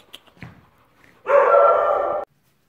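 An aggressive female dog at a dog farm gives a single sustained bark-like howl lasting about a second, loud and close, after a few faint scuffling sounds.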